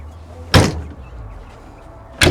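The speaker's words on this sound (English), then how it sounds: "Want me to go ahead and close this door?" Door of a 2003 AM General military Humvee slamming shut, a loud heavy thud at about half a second, then a second sharp close right at the end, with quiet background between.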